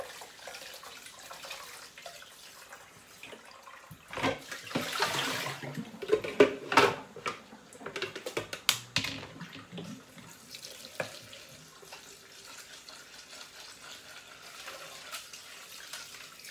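Tap water runs into a sink while soaking water is changed, a steady faint splash swelling into louder gushing and splattering midway before easing back to a soft trickle, with no voices.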